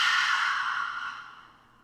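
Slow, airy exhale during a yoga plank held on the elbows, a single long breath that starts strong and gradually fades away, close and alone without speech.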